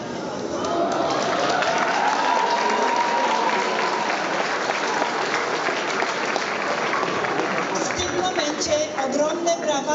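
Sustained applause from a large crowd at a school prom ball honoring the choreographers, dense and steady for the full stretch with no talk.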